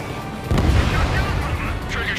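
A bomber shot down in the Ace Combat 7 flight game bursts into a loud, deep explosion with a rumbling boom that lingers under the roar of jet noise and a radio voice.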